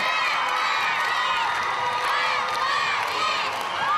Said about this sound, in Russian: зрительный зал оглашение очередного победителя без устали встречал ликующими криками